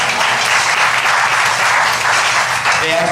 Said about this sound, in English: They actually really deserve a round of applause